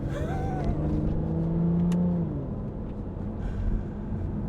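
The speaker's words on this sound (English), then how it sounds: "Let's get these flappy paddles working. Oh! The downshift." A six-speed automatic Aston Martin with paddle shifters blips through a downshift; the engine note rises sharply around the two-second mark, then settles into a steady cabin drone with faint background noise.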